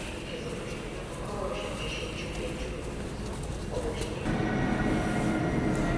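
Train at a Polish railway station, a steady rumble of rolling carriages that swells louder toward the end, with pigeons or other birds and people talking faintly in the background.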